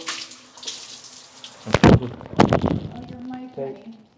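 Water pours from an 8-inch rain shower head in a home shower, a steady rushing spray up close, broken by a couple of sharp mic knocks, with a voice talking over it.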